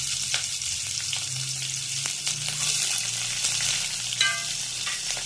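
Chopped onion frying with a little dal in hot oil in a pan, a steady close sizzle with occasional crackles and a few soft utensil taps, no voices.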